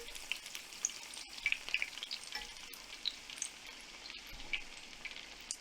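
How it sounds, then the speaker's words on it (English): Battered onion rings deep-frying in hot oil crackle in a quiet, busy sizzle with scattered pops, while occasional stirring taps sound as they are turned over. "Keep stirring them around, turning them over so it's cooking it evenly."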